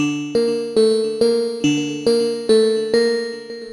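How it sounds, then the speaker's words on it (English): A trap bell lead patch with hard clipping from the Halion Sonic SE FLUX wavetable synth plays a short melodic phrase of about eight bright, struck, decaying notes in a regular rhythm, alone. "That's a mix between the clipping and the bell."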